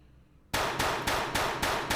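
Gunfire from an Unreal Engine 5 shooter game, a rapid string of about six loud, sharp shots in a steady rhythm after a brief quiet start, with no talking.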